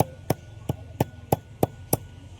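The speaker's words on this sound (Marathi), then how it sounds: "सात 8 लसणाच्या पाकळ्या घेतल्या, आता त्याची मी साल्ट काढून घेतले, हे आपण बारीक करून घेतो" Seven or eight peeled garlic cloves being chopped fine with a knife on a board: seven sharp, evenly spaced chops at a steady rhythm, close and clear against a faint hum, with no talking.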